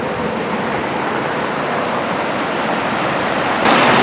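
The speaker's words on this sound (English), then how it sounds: "Look at this water coming down." A mountain creek in the San Gabriel Mountains rushes with steady, broadband roaring noise at close range, water pouring down over an eroded bank, surging a little louder at the end with no voices.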